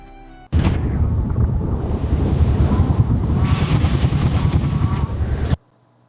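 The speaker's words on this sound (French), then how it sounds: "Et le vent que j'avais fait" Synthetic wind effect made with an AI audio generator: a steady, loud roaring gust that starts abruptly, holds for about five seconds with slight swells, then cuts off, with no voices over it.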